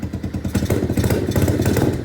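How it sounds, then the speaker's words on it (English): A cold KP Mini 150 motorcycle engine with an aftermarket exhaust idles with a rapid, lumpy pulse, then revs up louder and holds a rough, throaty roar close by. "Give y'all a little rev."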